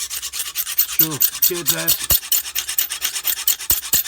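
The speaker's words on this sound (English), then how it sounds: "turn the knife around and give it the same amount of strokes on the other side" A Lansky knife sharpening system hones a knife edge, heard as a close, steady series of short rasping strokes in an even back-and-forth rhythm, with a brief voice speaking partway through.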